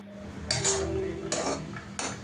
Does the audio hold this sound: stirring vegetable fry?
yes